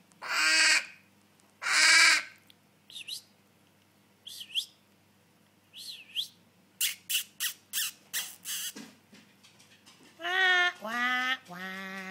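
Loud, harsh caws from a baby crow ring out twice, followed by a run of short, sharp chirps and then a few more raspy calls, all close.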